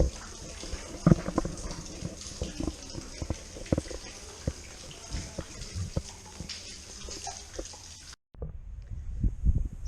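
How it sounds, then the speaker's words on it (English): Drinking water running from a tap at a hilltop temple near Bangalore, a steady splashing trickle with irregular drips and gurgles, close by, cutting off abruptly near the end before a few quieter splashes. "This is drinking water. They say it's very pure and nice to drink."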